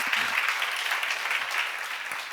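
Steady applause from a church congregation during a seminar, a dense wash of clapping hands that holds at an even loudness for the whole stretch.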